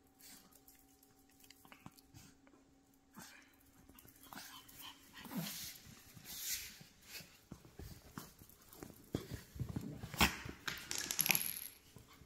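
Small dogs play with a bumpy ball toy in a room, their quiet snuffling, soft whimpers and clattering paw and toy noises building in scattered bursts, louder toward the end, with no talk.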